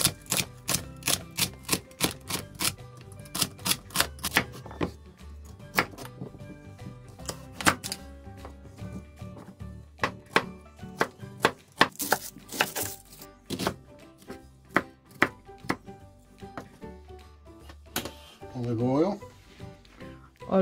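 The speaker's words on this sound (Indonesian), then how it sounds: "Potong the wortel dan seledri dan bawang bombay." A knife chops carrots, celery and onion on a cutting board for a homemade ragu sauce, with steady close thuds in a brisk rhythm that thin out toward the end, under ongoing speech.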